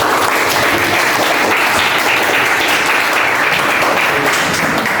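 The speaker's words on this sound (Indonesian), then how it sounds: "Beri tepuk tangan untuk kelompok" Classmates applaud a presenting group in a school classroom, with loud, dense, continuous clapping that holds steady for the whole stretch.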